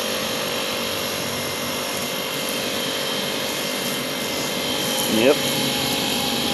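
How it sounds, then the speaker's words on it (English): A Honda HHT35S string trimmer with a GX35 engine runs steadily outdoors during lawn cutting, a continuous droning engine whine with a brief rise in revs near the end and a short spoken word over it. "Over here running the weed eater. Honda"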